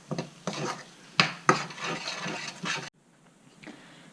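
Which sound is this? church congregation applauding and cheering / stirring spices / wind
stirring spices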